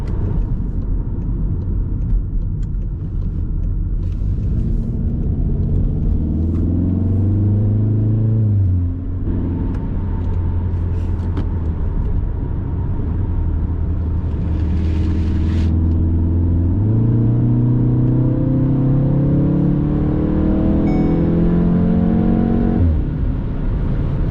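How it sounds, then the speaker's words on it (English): Volkswagen Golf R accelerating up a highway on-ramp at about half throttle: a loud engine note rising in pitch, a gear change, then another long climb, heard close from inside the car. "On-ramp pulling, about half throttle again"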